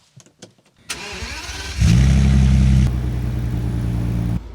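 A crashed Bentley's engine cranks briefly after a few clicks, then catches and flares loudly before settling into a steady, strong idle, up close with no talking.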